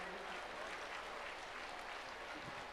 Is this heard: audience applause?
yes